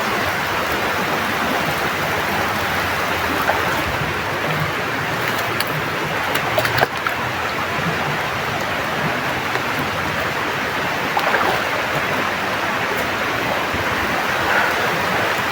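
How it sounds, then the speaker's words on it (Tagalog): Heavy rain pours steadily on a forested outdoor location, a dense continuous hiss that stays loud and even throughout with a few brief louder spatters, no voices. "sobrang lakas ng ulan tol."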